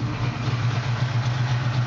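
A 1979 Chevrolet pickup's 383 cubic inch V8 idles steadily with a deep, even low rumble and no talking, holding a smooth, constant tone throughout.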